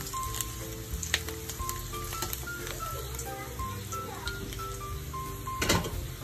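Chicken breast fillet sizzles steadily in a pan of melted butter with garlic, thyme and rosemary, a continuous close frying crackle with occasional small pops and utensil clicks.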